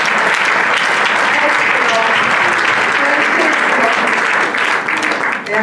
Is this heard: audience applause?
yes